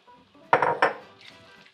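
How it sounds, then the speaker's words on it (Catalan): Picada being added to a pot of Catalan stuffed squid stew, giving a couple of close metallic clinks and scrapes of a utensil against the pot amid quiet kitchen background. "I al final hi tirem la picada."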